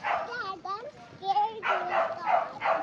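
Dogs, apparently startled, bark and yip in short high bursts close by, with whimpering tones mixed in and people talking over them.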